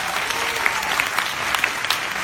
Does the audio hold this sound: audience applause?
yes